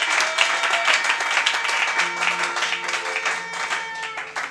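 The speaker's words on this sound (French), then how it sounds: "Donne le fond d'acclamation à l'Éternel" A church congregation applauds and cheers in sustained, dense clapping, with sung or shouted voices and a held tone rising over the crowd throughout.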